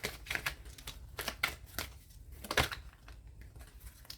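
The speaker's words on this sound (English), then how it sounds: "Let me pick them up and get back to shuffling." Tarot cards are shuffled in quick, dry bursts of riffling and tapping, close and fairly quiet, with a few short pauses between strokes.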